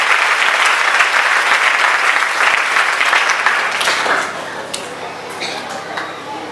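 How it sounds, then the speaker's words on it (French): A church congregation claps loudly and continuously in praise, dense applause filling the room for about four seconds before tapering into scattered claps and quieter background. "Acclamons très fort le Seigneur."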